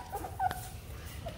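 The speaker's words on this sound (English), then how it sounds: "These puppies are so darn cute." Puppies giving a few faint, high whimpers and yips nearby, brief and soft against a low background hum.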